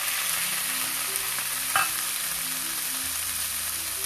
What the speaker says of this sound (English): Now till these tomatoes get cooked, we have to fry them.